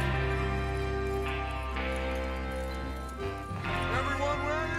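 Horses in Red Dead Redemption II move with steady hoof clip-clop under game music and ambience, close and continuous, with a possible whinny near the end.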